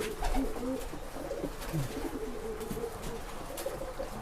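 A Kenwood bule dove, the presiden bird in a breeding cage, coos softly in low repeated phrases against a faint hissing background, with no talking.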